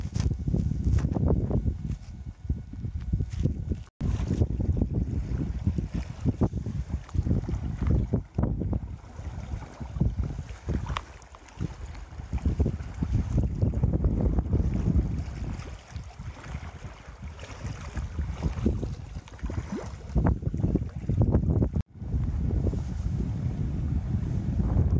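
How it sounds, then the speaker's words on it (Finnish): Strong wind gusts buffet the microphone steadily while paddling a packraft on a choppy lake, with low rumbling wind noise and splashing water throughout, briefly dropping out twice. "kyllä täällä melkoinen tuuli käy"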